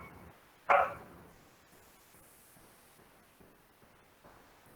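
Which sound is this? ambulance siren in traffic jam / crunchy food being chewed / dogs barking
dogs barking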